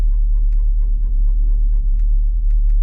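A tuned car's engine on a dyno, held at wide open throttle after its timing was advanced, drones as a loud steady rumble for the whole stretch, with faint bursts of voices now and then.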